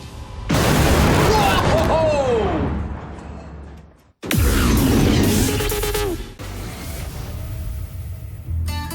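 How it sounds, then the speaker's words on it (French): A pile of scrap cars blows up in the New Mexico desert with a huge, loud boom and roaring rumble, followed a few seconds later by a second blast that trails off into debris noise, with voices over it. "un tas de ferraille est sur le point d'exploser"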